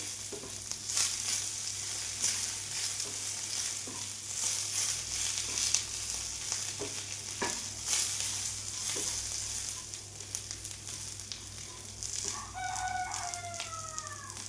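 Grated coconut frying with curry leaves in a pan makes a soft, steady sizzle with occasional scrapes and stirs. A rooster crows clearly in the background near the end.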